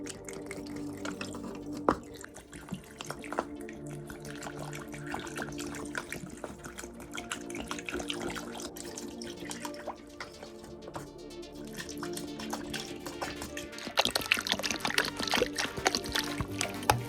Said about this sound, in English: Pour it in and fill the battery cells completely so that everything can fully react.